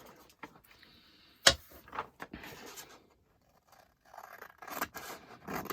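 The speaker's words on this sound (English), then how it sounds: "So I'm just going to do that and I'll cut it out." Scissors snip through a card in a papercraft setting, with one sharp close cut followed by a few quieter snips and rustles separated by short pauses.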